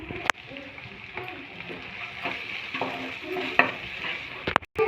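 Chicken chow mein being stir-fried with Maggi masala sizzles in a pan, with repeated scraping stirs and occasional sharp clacks of the spatula, fairly close and moderately loud.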